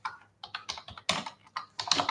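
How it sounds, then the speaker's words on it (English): Quick bursts of keystrokes on a computer keyboard, close and crisp, in short irregular clusters separated by brief pauses, with no talking. "Let me type it in."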